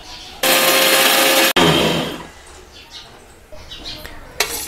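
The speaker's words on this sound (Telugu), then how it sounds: "మనం ఫ్రై చేసి పెట్టుకున్న ఎండుమిర్చిని ఫస్ట్ మిక్సీ జార్లో వేసుకొని అందులో 1/2 టీ స్పూన్ సాల్ట్ యాడ్ చేసుకొని గ్రైండ్ చేసుకోవాలి" A mixer grinder roars loudly for about a second while grinding fried dried red chillies with salt, then stops abruptly, restarts briefly and winds down, leaving faint clatter behind.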